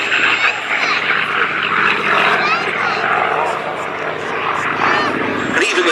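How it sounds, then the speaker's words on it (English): An F8F-2P Bearcat piston-engine fighter flies at the Duxford Battle of Britain Airshow, its propeller and engine droning loudly and continuously while a commentator speaks over the aircraft noise. "Here comes the F-8F-2P Bearcat."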